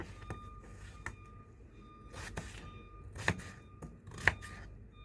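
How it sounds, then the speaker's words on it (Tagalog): A knife cuts food into cubes on a board with faint, irregular chops and taps, a handful of sharper strikes standing out against a quiet background without speech. "Hiwain ko lang to into cube size."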